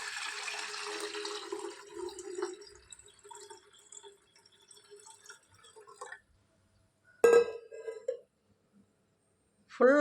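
Water pours into a Kerala puttu steaming vessel with a steady splashing fill for several seconds. It fades to a quiet trickle, then brief knocks and a short splash follow near the end.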